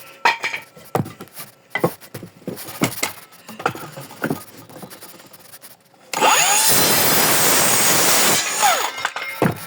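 Wooden boards being cut by hand, with scattered knocks and scraping while the wood is set up, then a loud, steady burst of sawing for about three seconds.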